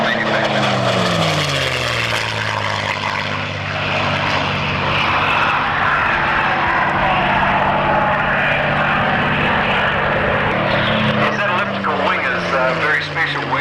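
A propeller aircraft flies past at the Matamata airfield air show, a loud droning engine roar whose pitch sweeps downward as it passes, with someone commentating over it throughout.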